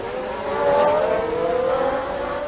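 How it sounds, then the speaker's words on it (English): A Lola Lamborghini V12 Formula One race car at the Phoenix US Grand Prix drones loudly and steadily, its high engine tone holding and shifting slightly over a couple of seconds with no talk. "Look, it's a long old car, isn't it? Isn't it, that V12 engine?"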